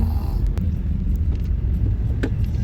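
A bus travels on a road through Ukraine near Vinnytsia, heard from inside as a continuous low engine rumble and road noise with a few faint rattles.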